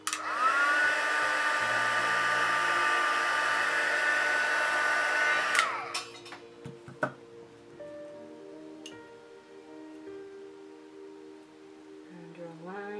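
A heat tool whirs steadily and loudly for about six seconds while setting embossing powder, then shuts off abruptly, leaving quiet room tone with faint ticks and small handling noises.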